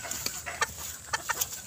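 Hens cluck in short, scattered bursts at moderate distance, several quick calls overlapping as they crowd to eat in a quiet farmyard on a rainy afternoon.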